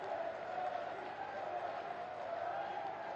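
Large audience at a government credit camp event in Jhansi giving a steady, distant-sounding round of applause to welcome Yogi, a continuous even patter of clapping lasting throughout.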